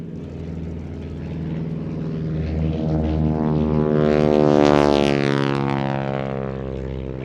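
A Ryan ST Sport Trainer, a tandem two-seat propeller aircraft, drones past at an air show, its engine tone swelling as it nears and then easing away, heard alone.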